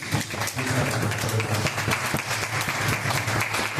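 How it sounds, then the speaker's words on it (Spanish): Crowd at a SAND board game presentation at Devir Fest Buenos Aires 2024 gives sustained, dense applause, loud and close, continuing without a break. "el aplauso es para vosotros también"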